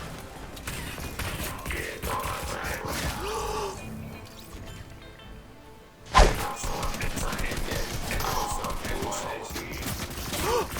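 Gunfire hitting the player in a shooter video game, with bursts of shots and impact thuds, a sudden loud crack midway followed by continued rapid firing and hits; a voice sighs and reacts faintly.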